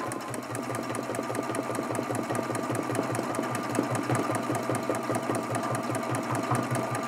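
Sewing machine running steadily, stitching a leaf pattern on a turkey mug rug, a fast even needle rhythm held close and continuous throughout.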